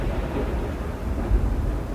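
Heavy rain storm with a low, continuous rumble of thunder and dense rainfall, steady and loud throughout with a slight swell near the end.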